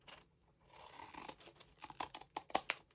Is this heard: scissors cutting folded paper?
yes